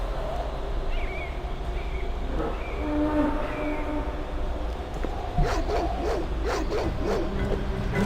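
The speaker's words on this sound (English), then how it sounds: "Alright, getting attacked by wild dogs." Wild dogs attacking in the video game Baldur's Gate II Enhanced: rough snarling and barking bursts rise late in the sequence, set against a dense, steady background of game ambience.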